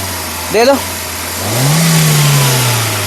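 A 2014 Hyundai i20 Magna petrol engine idles quietly, then revs up in one smooth rise that holds steady before easing off, preceded by a brief voice.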